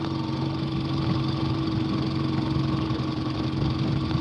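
A small outboard boat engine idles steadily on a lake in New York's Finger Lakes, a loud, continuous mid-pitched drone that holds level throughout with no voices over it.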